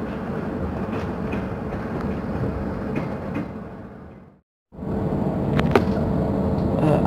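Passenger train running through Jhetha Bhutta station in Pakistan en route to Multan, heard from on board as a steady loud rumble and rattle of wheels, briefly cut to near silence before the clatter resumes.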